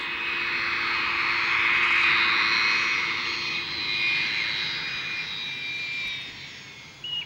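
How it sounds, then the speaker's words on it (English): Jet airliner passing low overhead near an airport, a loud sustained roar that swells to a peak around midway and slowly fades, with a whining high tone, heard alone without talk. "It's used to the planes passing low overhead."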